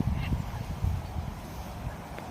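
Geese honk a few times in short bursts at a lake over steady outdoor wind rumble, moderately close.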